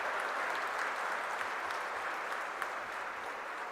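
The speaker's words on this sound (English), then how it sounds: "A big round of applause for" Steady audience applause fills a lecture hall during an endowment lecture series valedictory function, a dense even patter of many hands clapping at constant loudness without pause.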